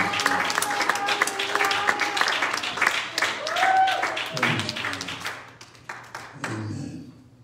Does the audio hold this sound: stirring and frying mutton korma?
no